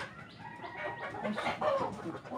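Domestic hens cluck quietly nearby, a few short irregular calls in a calm household setting with no talking.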